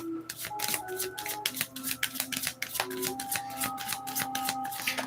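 A deck of tarot cards is shuffled by hand, giving rapid, close riffling and soft slapping in bursts that run through the whole stretch, with no talking.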